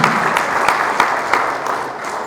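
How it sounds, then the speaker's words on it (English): An audience at a Hikma Herbal Lab presentation gives a round of applause, with dense, steady close clapping that stays loud for the whole stretch and carries no speech. "Give him a big round of applause."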